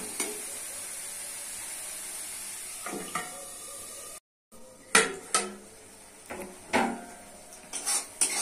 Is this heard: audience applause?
no